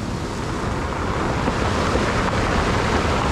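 Large ocean waves roll in at Pidakan Beach in Pacitan, a loud, continuous roar of surf with wind buffeting the microphone and no pauses.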